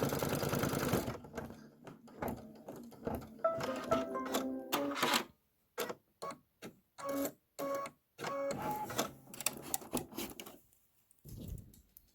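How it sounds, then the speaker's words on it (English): A Kimberbell embroidery machine stitches down a window piece on a farmhouse block, its rapid mechanical chatter running in choppy rhythmic bursts with brief silent gaps before it stops near the end. "I'm going to stitch it down and trim"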